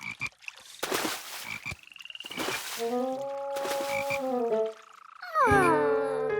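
Cartoon frogs croak in a bathtub, a run of deep, gargling, rubbery croaks that builds into overlapping tonal calls, ending in a louder burst of warbling voices, with no talk.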